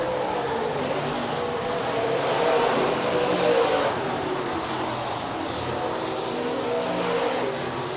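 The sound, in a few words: stock cars racing on a speedway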